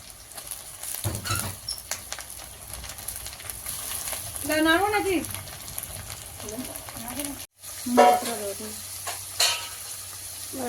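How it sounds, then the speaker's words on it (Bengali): Shrimp frying in a pan with onion, salt and turmeric, a continuous close sizzle with stirring scrapes, and a voice briefly speaking over it midway. "এবারে কেটে রাখা চিংড়ি মাছটা দিয়ে দাও দিয়ে নুন হলুদ দিয়ে দাও"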